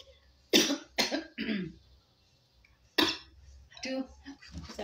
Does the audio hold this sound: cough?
yes